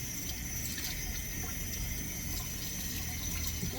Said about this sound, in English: Just rinsing these off,